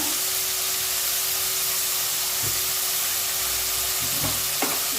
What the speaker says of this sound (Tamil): நல்லா தக்காளி வதக்கலாம்.